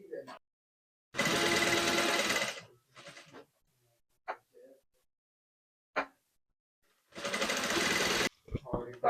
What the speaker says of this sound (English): So now we're going to stitch the back panel as previously shown in the video